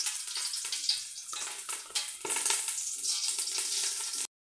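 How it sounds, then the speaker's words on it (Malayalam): About two spoons of ghee hit a hot heavy pan, giving a bright, loud sizzle that surges in bursts, then crackles steadily before cutting off abruptly. "ഇനി നമുക്ക് ആവശ്യമുള്ളത് ഏകദേശം 2 സ്പൂണോളം നെയ്യ് ഇതിലേക്ക് ചേർത്ത് കൊടുക്കാം."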